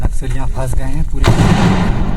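Loud gunfire bursts during a security forces' encounter with Naxalites, sharp reports cutting in near the end after shouted talk at the start.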